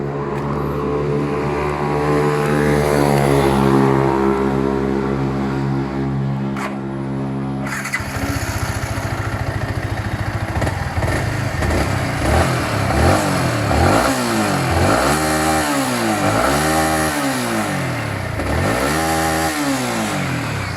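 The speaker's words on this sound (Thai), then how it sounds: "เดี๋ยวมาฟังเสียงกันนะ" A Yamaha R15 motorcycle engine idles with a loud, steady rumble, then is revved in a series of quick rising and falling throttle blips, each rev climbing sharply before dropping back.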